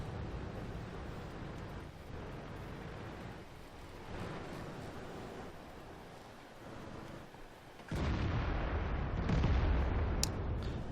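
Tank cannon fire in World of Tanks, the T32 on the Cliff map: a rumbling battle soundscape with a heavy, loud boom kicking in near the end and ringing on, no talk over it.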